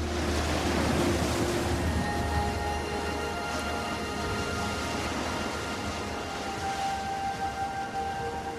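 Ocean waves at sea in the open Pacific, a steady broad wash of surf that rolls on without break for several seconds, fairly loud and with no voices.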